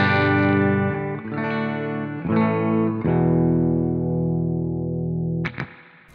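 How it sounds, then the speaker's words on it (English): A clean electric guitar played through IK Multimedia Amplitude 4 in stereo rings out in several strummed chords, each sustaining and slowly fading, before a final sharp string scrape near the end; no voice. "so this is a clean guitar by itself."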